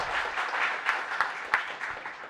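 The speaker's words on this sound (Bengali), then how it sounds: "জোরে একটা হাততালি।" Audience clapping at a 2017 eCommerce conference opening: a fairly faint, continuous patter of many hands with a few sharper individual claps standing out, sustained throughout with no talk over it.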